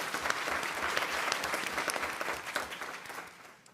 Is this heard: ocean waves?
no